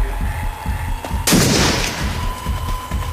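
A single sharp, loud gunshot cracks out in the Fight Forever video game, a sudden blast that decays quickly over a low, steady ambient game background.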